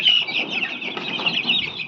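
A flock of Bhimavaram breed chicks makes a dense, continuous, high chatter of peeps and clucks close by.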